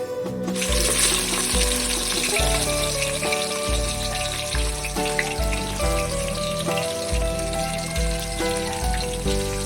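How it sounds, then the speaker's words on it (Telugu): Onions sizzling and crackling in hot oil in a pan, a steady close frying hiss with occasional stirring, while background music plays throughout. "ఆయిల్ బాగా వేడైన తర్వాత ఇందులోకి మనం ఎర్రగడ్డలు తీసుకోవాలన్నమాట."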